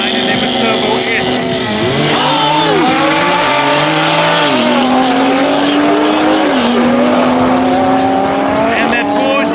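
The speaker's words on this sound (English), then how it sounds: "Audi Rs3 up against the Porsche 911 Turbo S." An Audi RS3 and a Porsche 911 Turbo S launch in a drag race, engines roaring loudly and rising through gear changes with tire squeal, while a commentator talks over the din.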